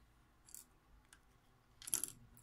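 The plastic halves of a Jaguar X-Type remote key fob pressed back together after a battery change, a few small, sharp plastic clicks with the loudest snap near the end, close and quiet with no talking.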